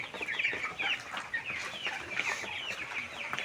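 Chickens being stirred up in a hot poultry shed cluck and squawk continuously, a dense overlapping chorus of many birds at moderate distance.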